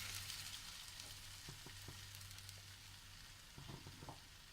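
Beaten egg poured over softened tomatoes sizzles steadily in a pan for a Malabar dish, a soft even frying hiss with a few faint utensil clicks near the end.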